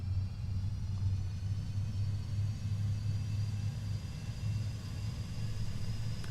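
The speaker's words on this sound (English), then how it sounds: "We'll go ahead and spool up the APU." An Airbus APU in Microsoft Flight Simulator with the Fenix airliner add-on, a steady deep rumble with a faint high whine above it, continuous and even from outside the aircraft.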